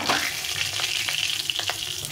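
Cumin and dried chili tempering in hot mustard oil, a busy steady crackle and sizzle with small sharp pops, close and fairly loud, no voices.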